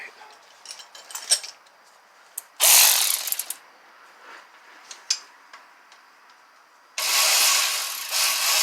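Ratchet wrench tightening a bolt on a Nissan Frontier engine during a front crank seal replacement, bursts of quick clicking pawl ratcheting alternating with pauses and a few metallic knocks, close and loud.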